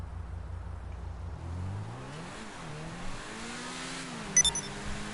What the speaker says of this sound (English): we're now driving back in Clarkson's car